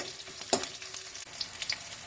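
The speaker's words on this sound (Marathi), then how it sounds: "यात आपण लाल मिरच्याही घालूया फोडणीमध्ये" Red chillies go into hot tempering oil with golden garlic, a close steady frying crackle with one sharp stir or drop near the start and light scrapes after, and no voices.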